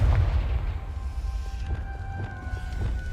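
A booming blast from the Confringo explosive spell in Hogwarts Legacy, a loud low burst at the start that rumbles and fades into lingering ambient game sound.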